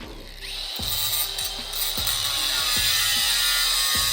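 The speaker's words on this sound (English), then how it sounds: "we'll throw a couple of pipe wrenches on this and see if we can get it to bend up the way we'd like" Steel bumper for a third-generation 4Runner, clamped to a metal work table, creaks and clicks as pipe wrenches lever it, a steady loud metallic grind with a sharp ratchet-like snap roughly every second.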